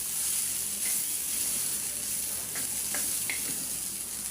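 Bitter gourd and potato frying in a pan with salt, green chili and onion, a steady, close, loud sizzle with faint clinks of stirring throughout and no talk.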